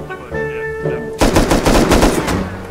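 Rapid automatic AK rifle fire bursts out in Rust, a loud, dense volley of shots that follows a short stretch of droning game sound.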